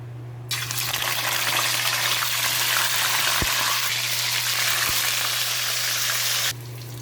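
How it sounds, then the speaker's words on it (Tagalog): Fish frying in hot oil in a home kitchen, a steady loud sizzle with a faint low hum beneath, holding for about six seconds before cutting off. "pwede nang ilagay yung isda para makapagprito"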